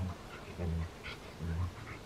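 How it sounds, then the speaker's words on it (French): A restless dog pants and whimpers close by, making low, uneven bursts of breath with soft vocal whines at irregular intervals against a quiet indoor background. "Et lui, il n'est pas tranquille ce chien."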